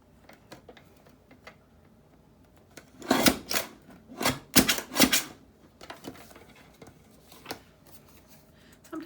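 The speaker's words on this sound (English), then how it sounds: "I'm just gonna cut a little bit more off." Scissors snipping paper to make a window pocket, a cluster of sharp close crisp cuts in the middle, with scattered softer paper rustles and handling sounds around them.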